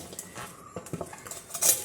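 Quick, irregular cutting and clinking sounds of food being chopped in a home kitchen during morning school-lunch preparation, close and fairly soft, with a brighter metallic clink near the end.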